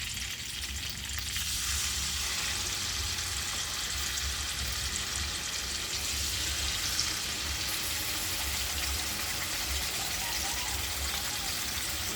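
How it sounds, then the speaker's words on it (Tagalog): Chicken frying in hot oil for sweet and sour spicy chicken, a steady, even sizzle and crackle that runs continuously, close but fairly quiet, with no talk over it. "Mag-fry na tayo ng chicken mga Lods."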